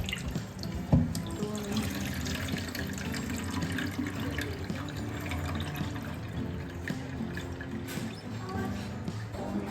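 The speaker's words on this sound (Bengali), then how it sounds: "এটা এমনি চিকেন, আর হচ্ছে দেশি চিকেন। ভালো করে একটু ধুই।" Tap water runs steadily into a sink while desi chicken is washed under it, a continuous close rush with light splashing throughout and no speech.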